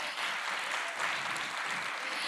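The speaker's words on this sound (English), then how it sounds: "Let's give her another big round of applause." An audience at a Title IX panel discussion hosted by a county supervisor gives a speaker another round of applause, a dense, continuous patter of many hands, moderately distant and steady throughout the short stretch.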